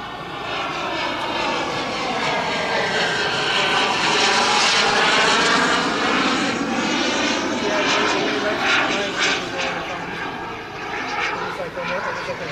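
A Tomahawk F-86 RC model jet flies overhead, its turbine roaring loudly and steadily with a rising and falling whine as it passes, while people talk nearby.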